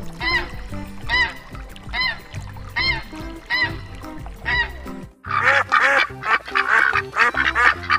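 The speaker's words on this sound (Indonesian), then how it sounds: "Ada dua angsa sama bebek." Ducks quacking repeatedly in a steady series of nasal calls, close by, followed by a denser burst of overlapping honking from geese and quacking.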